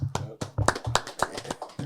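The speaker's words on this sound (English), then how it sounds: "Round of applause." A small group claps in a quick, even rhythm to welcome associate head coach Steve Masiello onto a college basketball podcast; the claps are close, sharp and steady for about two seconds.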